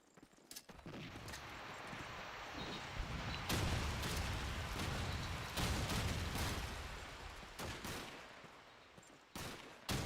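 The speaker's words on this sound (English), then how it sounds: "Another set of early nades coming in" Rapid bursts of gunfire and grenade blasts from the video game Call of Duty 2 during a LAN championship match, dense and sustained over several seconds before easing off, with no talk.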